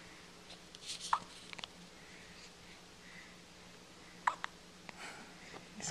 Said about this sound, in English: He's got the hiccups, huh?